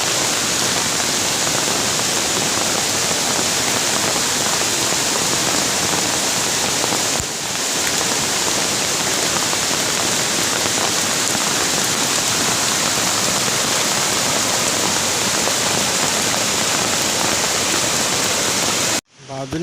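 Heavy rain pours down in a forest beside a stream as a loud, steady, unbroken wash. The rush stops abruptly at the very end.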